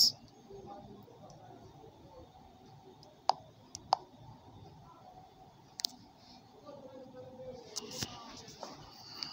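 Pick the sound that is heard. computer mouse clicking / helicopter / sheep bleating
computer mouse clicking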